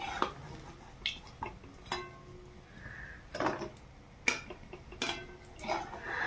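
Fried taro flower fritters lifted out of a wok, with a scatter of light metallic clinks and scrapes from utensils against the pan, separated by quiet gaps, close by and fairly soft.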